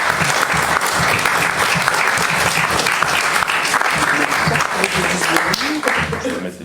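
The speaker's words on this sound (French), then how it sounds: "Je pense qu'on peut déjà les applaudir très fort." Loud, dense applause fills a municipal council meeting hall, many hands clapping steadily and close, with scattered voices underneath.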